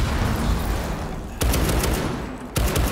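Gunfire in the video game Rainbow Six Siege comes in dense loud bursts, with two sharp fresh volleys starting abruptly about a second apart over a constant roar of shooting.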